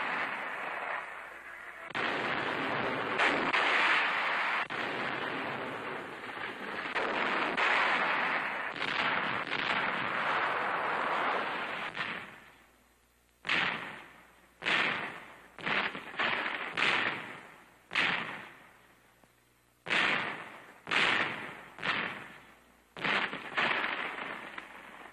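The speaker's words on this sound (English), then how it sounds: "Training that includes the handling of dynamite in doses big enough to blast a bridge or a mountain." Dynamite blasts and gunfire at a 1943 Canadian army training exercise: a long stretch of heavy rumbling explosions gives way to a rapid series of sharp, loud bursts separated by brief pauses, sounding like archival newsreel audio.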